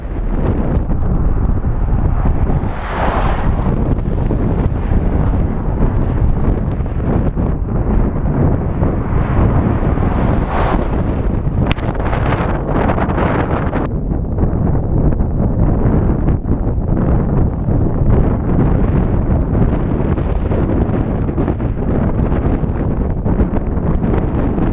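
Strong, gusty wind, averaging about 15 mph with gusts near 35, roars continuously and loudly against the microphone, swelling in bursts over a steady rumble with no voices.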